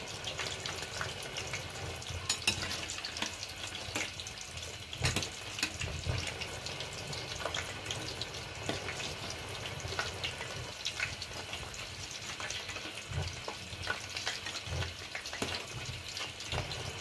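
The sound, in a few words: pumpkin flower fritters frying in oil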